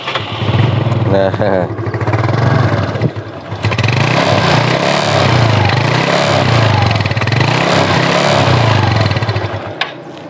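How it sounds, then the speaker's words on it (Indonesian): Yamaha Mio 2009 scooter engine idling and running close by, a loud steady putter with slight rises and dips in revs, while someone speaks briefly near the start. "tadi saya belum sempat kasih dengar suara mesinnya ya"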